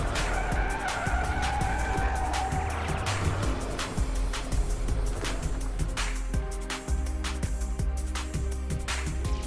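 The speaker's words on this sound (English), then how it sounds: "due to this abrupt steering maneuver, the vehicle starts to skid" A car skids after an abrupt steering maneuver, with tires squealing in drawn-out tones over a steady roar of road and engine noise that continues throughout.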